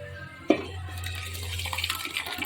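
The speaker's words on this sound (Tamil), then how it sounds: "தேவையான அளவு தண்ணி ஊற்றிக்கலாம்" Water splashes and streams steadily into a pot of paruppu kulambu (lentil curry) after a sharp clank, a continuous close pouring sound with a low hum underneath.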